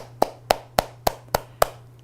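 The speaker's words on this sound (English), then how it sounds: "Applaud the orchestra." A single person claps six times in a steady, even rhythm during a guided hand-awareness exercise; each clap is sharp and close, with a low steady hum underneath.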